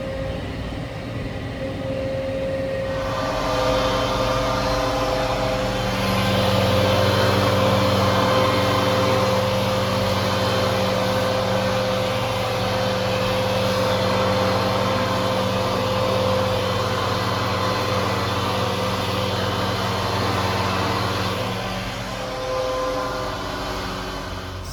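A Maxim 125 baling tractor runs steadily while cutting hay, its engine a loud, continuous drone with a constant whine; the pitch rises slightly a few seconds in and holds through the rest.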